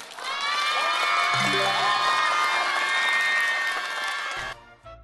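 A middle-school class audience on a televised science quiz show claps and cheers, a loud sustained wash of young voices shouting and whooping that cuts off sharply near the end.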